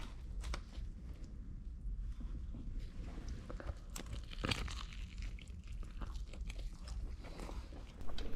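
Teeth bite into the crust of a cheesy Chicago pizza, giving close, soft crunching and chewing sounds with a few sharper snaps.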